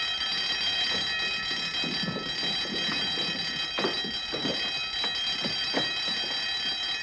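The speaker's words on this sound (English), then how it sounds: "Turn off the alarm." An alarm rings continuously in a 1952 spy film, a steady high electric bell or buzzer held throughout, with thuds and rustling movement underneath but no speech.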